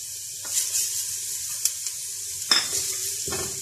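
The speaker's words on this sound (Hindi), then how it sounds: "इसमें अब हम ये जीरा डाल देंगे।" Cumin seeds hit hot oil over lightly golden onions in a pan, giving a steady soft sizzle punctuated by a few sharp stirring scrapes and clinks.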